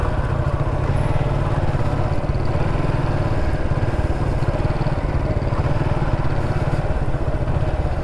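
A motorcycle engine runs close by during low-speed turning practice, giving a steady, continuous rumble with no clear breaks across the whole stretch.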